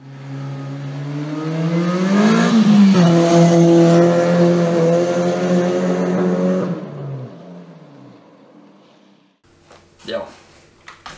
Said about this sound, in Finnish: Me vedetään jossain yöllä Ikean parkkihallissa.